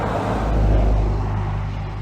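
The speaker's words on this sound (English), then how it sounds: "there's a car coming by." A single car passes nearby, a low, smooth engine and tyre rumble that swells gently and then eases off as it goes by.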